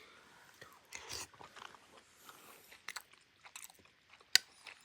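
Someone bites and chews a milk chitoi pitha rice cake up close, with soft, intermittent crunches and mouth sounds in a quiet room, ending in one sharper bite.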